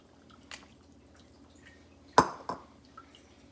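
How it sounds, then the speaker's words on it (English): Jumbo shrimp drop into a simmering Brazilian fish and shrimp stew with mussels, giving a few faint splashes and wet plops, the loudest pair close together, over a low quiet background. "We're gonna add our shrimp in."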